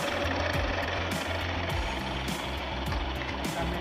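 A milling machine runs at a set speed of 52 while its table is raised toward a round handle workpiece. It gives a loud, continuous mechanical drone with a rapid, steady pulsing chatter throughout.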